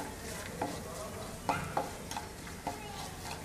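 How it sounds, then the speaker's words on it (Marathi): Finely chopped ginger and garlic sauté in a pan for a creamy tomato or veg Manchow soup: a steady soft sizzle with a few sharp scraping stir strokes, close and alone, with no talking. "1 चमचा आलं आणि 1 चमचा लसूण बारीक चिरून घेतली आहे, ती घालते आणि थोडी व्यवस्थित अशी परतून घेते"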